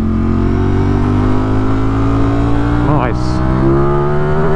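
A Ducati Streetfighter V4S motorcycle engine pulls hard under acceleration, its steady mechanical roar climbing in pitch through a gear, close and loud, with a brief spoken word from the rider.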